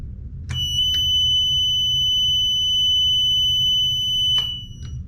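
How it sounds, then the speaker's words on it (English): A relay control system's alarm buzzer sounds a loud, steady, piercing electronic tone for about four seconds, starting and stopping abruptly with a click, over a faint low background hum. "this buzzer makes quite a bit of noise"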